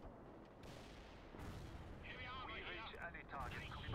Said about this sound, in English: I just love the random artillery strikes.